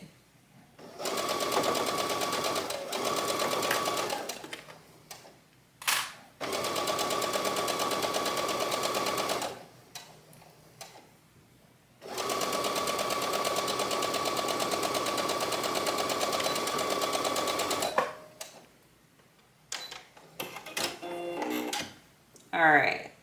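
Sewing machine stitching blouse yokes in steady, close, rapid whirring bursts separated by short pauses, with a few quiet handling sounds in between.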